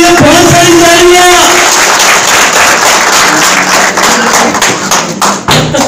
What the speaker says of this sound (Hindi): अब्दुल खालिक ताज के लिए बहुत सारी तालियां